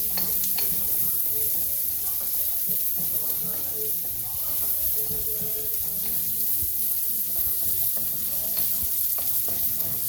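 Peppers frying and caramelizing in a pan for Thai basil fried rice with chicken, a steady close sizzle with occasional stirring and utensil clatter, no talk.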